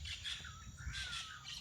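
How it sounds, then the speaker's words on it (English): Wild birds chirping and tweeting outdoors during a nature walk, several high calls overlapping at a moderate distance over soft background hiss, with no voices. "Just listening to the birds"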